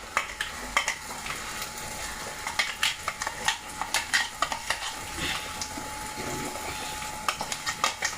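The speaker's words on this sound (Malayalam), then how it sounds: "അപ്പം അത് ഈ എണ്ണയിൽ കിടന്ന് നല്ലപോലെ ഒന്ന് മൂത്ത് അരപ്പുണ്ടാക്കണം." Ground masala paste frying in oil for a fish curry and being stirred, close sizzling with repeated scraping and clinks of a spoon against the pan in an uneven rhythm, no voices.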